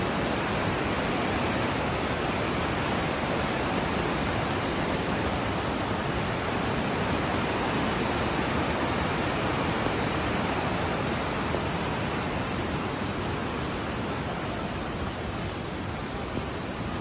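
Floodwater of the swollen Bagmati river rushing through a flooded settlement, a loud, dense, unbroken roar that holds steady from start to finish with no voices over it.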